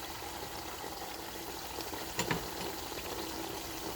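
A fresh and concentrated tomato mixture bubbles and simmers in a pot, a quiet steady hiss with one brief clatter midway and no talk.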